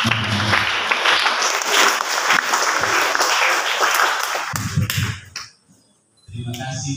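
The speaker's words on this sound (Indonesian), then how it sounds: "mari kita beri aplaus dulu" An audience at a motivational talk claps in a burst of dense applause lasting several seconds, loud and close, fading to near silence before a voice begins speaking.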